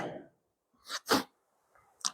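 A few short, sharp coughs or sneezing bursts close to the microphone during a church morning service, separated by brief silences.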